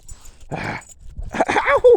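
A dog gives a couple of short, whiny yips and barks up close, with a brief pause between bursts.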